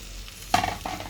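Chopped dill and parsley hit a hot frying pan, setting off a sudden loud sizzle and stirring rustle after a quiet steady background hiss, with a second burst of sizzling shortly after.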